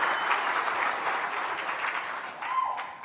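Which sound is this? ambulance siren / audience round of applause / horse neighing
audience round of applause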